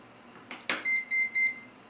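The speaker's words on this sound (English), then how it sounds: "and you get that 3 beeps to let you know you're ready to go" A FortrezZ water and temperature sensor, fresh batteries just inserted, gives a click and rattle of handling followed by three short, evenly spaced high electronic beeps, close and clear with no talk.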